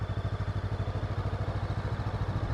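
A motorcycle engine idles and pulses with light throttle and clutch during a slow U-turn from a stop, a steady rapid low thump, close and moderately loud, with no voices.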